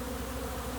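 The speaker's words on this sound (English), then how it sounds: "some of that's probably bees coming back going, where's our entrance?" A brief, steady hum of many honeybees circling the entrance of a big abandoned hive, an even close buzz with nothing else heard.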